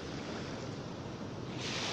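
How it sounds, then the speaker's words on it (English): Small ocean waves wash onto a surf beach in a steady, close, loud roar mixed with wind buffeting the microphone, with a brief surge near the end and no voices. "Tiny waves for surfers."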